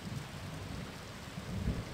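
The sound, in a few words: pouring rain and thunder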